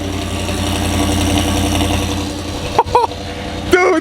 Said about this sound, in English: We're gonna start it because it's got a full exhaust system.